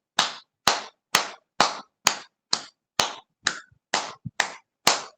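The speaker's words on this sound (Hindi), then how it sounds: "तालियां 15 बार।" A group in a yoga session claps hands in unison, eleven loud sharp claps at a steady, even beat with short silences between them and no talking.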